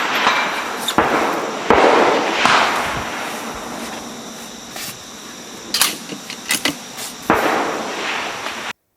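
Rifle shots ring out at steel targets on a shooting stage, several sharp cracks spaced a second or more apart, each followed by a short decaying ring, with a quick cluster of impacts near the end.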